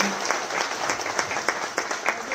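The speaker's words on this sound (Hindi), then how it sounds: "जोरदार करताली से स्वागत कीजिए माननीय शिक्षा मंत्री जी का" Audience at the NCERT 65th Foundation Day ceremony applauding the education minister, a loud, dense burst of many hands with sharp individual claps standing out, continuous for the whole moment.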